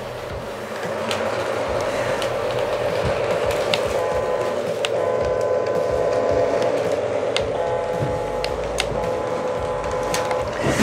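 A Lionel LionChief Santa Fe model electric train hums and whirs steadily along its track, a continuous mechanical drone with faint clicks, close by and without talk.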